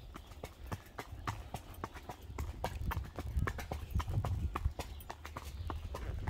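A horse's hooves clop in a steady rhythm on the ground near Lake Kainui in the Waikato, with crisp, evenly spaced footfalls heard quite close over a quiet outdoor background and no voices.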